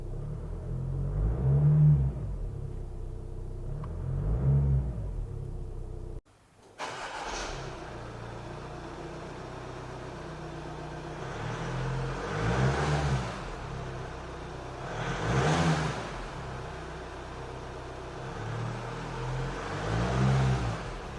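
An Audi A6 engine cranks and catches, then idles smoothly with a low, steady rumble and a few gentle swells in revs, close by.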